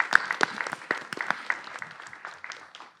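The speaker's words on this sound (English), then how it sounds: "Now let's clap it up for the community partners." Audience applause for community partners at a Board of Education meeting, a short burst of scattered hand claps that thins out over about three seconds, moderately close with some faint voices underneath.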